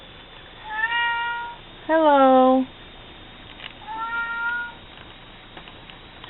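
A pet cat meows close by at least three times, including one loud drawn-out call in the middle, with a brief spoken greeting among the meows.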